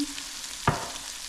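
Fish cooking in browning sizzles softly in a frying pan for brown stew fish, and a single sharp clank of a utensil against the pan marks the stir.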